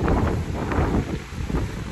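Strong wind roars and buffets the microphone beside a lake during an Oregon mountain blizzard, loud and gusty throughout.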